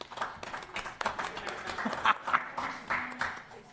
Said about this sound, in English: They're clapping for you too, Jason.